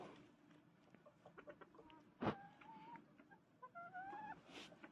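A small Pekin bantam hen clucks softly at close range, a string of quiet murmuring clucks and a few brief drawn-out calls, with one sharp knock partway through.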